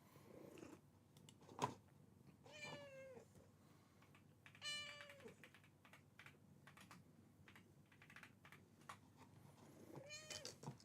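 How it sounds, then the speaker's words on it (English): A cat meows several times in quick, rising-and-falling calls across a room, over steady computer keyboard typing and faint background purring, with no talk. "My kitty's around."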